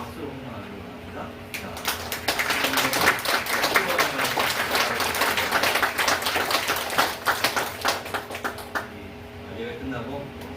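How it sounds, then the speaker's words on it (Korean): A church congregation stands and applauds in welcome, a dense, warm burst of clapping that rises and holds for several seconds before fading, with murmured voices and talk in the room around it. "우리 한번 일어나시면 박수로 환영하는 거 합니다."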